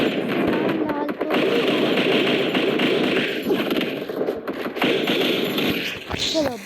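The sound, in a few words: gunfire from a video game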